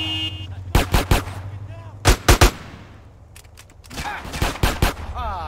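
Loud gunfire cracks out in Grand Theft Auto San Andreas Definitive Edition, in quick bursts of three shots, a brief quieter stretch, then another rapid volley close by.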